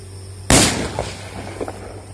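A homemade egg firecracker set off outdoors in Taiwan goes off in a single sharp, loud bang. A rumbling decay and a few faint pops follow, with no speech.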